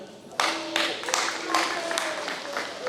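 At a high school honors ceremony, a handful of sharp, scattered claps ring out near a speaker's voice, sparse and irregular rather than a full round of applause.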